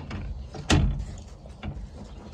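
A door slams shut with one sharp, loud impact, followed by a lighter knock, inside a rural camp setting with background rumble.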